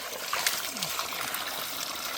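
Water trickling and splashing at a natural spring, a steady close gurgling flow with small splashes throughout.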